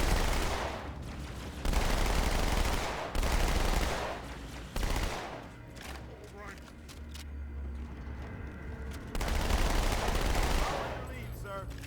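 Rapid SMG fire from Halo 2 Anniversary, loud close bursts of automatic shots that start and stop in repeated volleys with short pauses between them.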